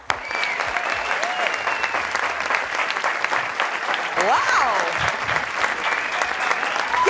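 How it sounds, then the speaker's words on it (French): A television studio audience breaks into sustained, loud applause, dense clapping filling the room throughout, with an excited shout and whistles rising over it. "et sous vos acclamations"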